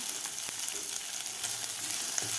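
Chopped onion sautéing in a pan over high flame, a steady close sizzle with faint stirring scrapes, no voices.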